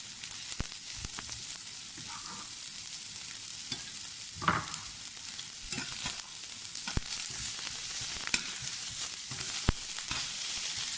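Carrots hit a hot pan and are sautéed for a vegetable base, giving a steady close sizzle with intermittent stirring scrapes and spoon taps throughout, no talking.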